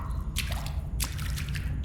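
Water drips in the sewer-themed video game Sewer Call, with a few wet, squishy drops landing at irregular intervals over a constant low background hum.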